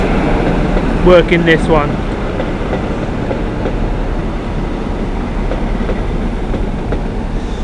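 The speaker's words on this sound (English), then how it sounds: "Just now arriving the 1657 from Nottingham to London St Pancras" A passenger train, the 16:57 Nottingham to London St Pancras service led by power cars 43066 and 43055 with VP185 engines, arrives at Leicester station as a steady low rumble with a brief rail squeal, beneath a voice.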